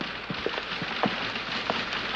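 Light rain falls steadily as a soft, even hiss, with scattered drops pattering on a surface at close range and no voices.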